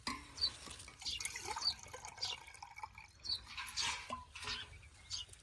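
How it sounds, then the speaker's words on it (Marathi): Water trickles and splashes steadily into a metal pot for cooking lentils, with intermittent drips and a faint running-tap sound throughout. "एक ते दीड तांब्या पाणी घालते"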